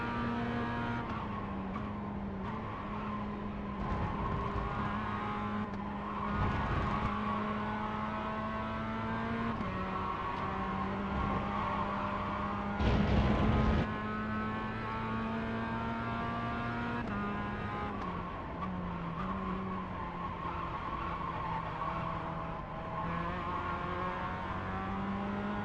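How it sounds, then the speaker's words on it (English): A GT3 race car in the iRacing sim runs down the Camel Straight at Spa. Its engine gives a steady, loud, buzzy drone that holds near one pitch for the whole stretch, with a brief rougher burst about halfway through. "It's not the most handsome engine to listen to on the Camel Straight"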